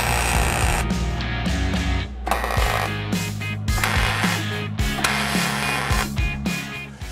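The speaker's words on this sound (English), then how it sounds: "And then I'm gonna weld it solid with the TIG welder" An AC TIG welder joins 6061 aluminum fender flares for a Suzuki Samurai, giving a harsh, steady electrical buzz. It comes in several long bursts split by short pauses, loud and close.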